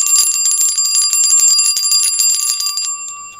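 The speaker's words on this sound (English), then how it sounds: "We have this bell here, which has triple clappers." A bell fitted with three clappers rings in rapid, continuous bright peals for about three seconds, loud and close, then cuts off and leaves a fading ring.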